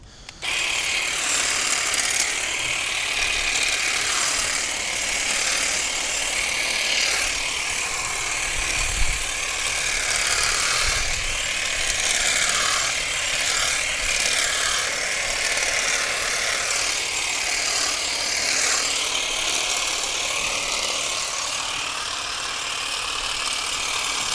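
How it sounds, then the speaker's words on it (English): Ryobi 18V ONE+ cordless 20cm hedge and grass shears cutting through a hedge outdoors, a steady close buzzing motor with rattling blade chatter that barely changes throughout. "So I'm gonna cut this whole hedge with this one."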